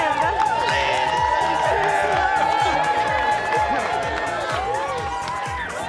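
Crowd cheering and whooping for an arriving guest at an award event, a loud continuous mass of voices and shouts that eases slightly toward the end.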